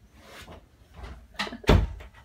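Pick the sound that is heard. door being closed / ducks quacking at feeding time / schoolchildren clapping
door being closed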